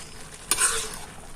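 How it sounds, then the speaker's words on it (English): A sharp clank of a utensil against the pan as noodles with masala get stirred, followed by a short scraping, sizzling swirl that fades into a quiet simmer. "And I add masala, and more masala I added, and I stir it again"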